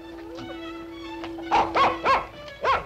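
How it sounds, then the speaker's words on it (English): A dog, kept in a crate, gives a run of four short whining yelps in the second half, following a quieter stretch with a faint steady tone in the background. "Hasn't anyone let that poor dog out of its crate yet?"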